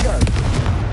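A Confringo fire spell cast in the video game Hogwarts Legacy gives a dense, booming blast with heavy low rumble that fills the whole second, loud and close, with some voice mixed in.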